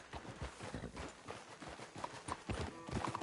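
Hooves of a horse galloping in Red Dead Redemption 2 beat out a fast, steady clip-clop, close and loud, with a brief whinny and a few faint game sounds behind.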